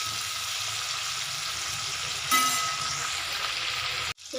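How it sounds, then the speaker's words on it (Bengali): Cauliflower frying in hot oil, a steady close sizzle running throughout with a brief stir or clatter midway and a sudden cutoff near the end. "ফুলকপিটা ভাজা হয়ে গেছে"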